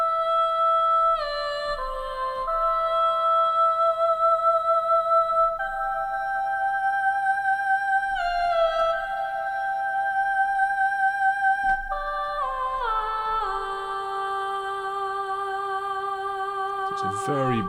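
Female vocal sample library called Voice of Elves sings sustained "ah" notes, moving through held pitches in a soft, airy melodic phrase with no other talking.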